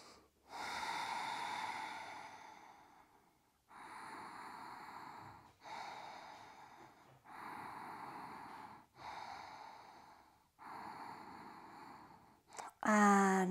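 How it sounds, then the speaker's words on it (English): Five long, deep breaths during a held lift in a postnatal yoga session, about three months after birth. Each slow, steady inhale and exhale is close and audible, with brief pauses between them, and it ends with a short sharp sound. "Let's go for 5 long deep breaths."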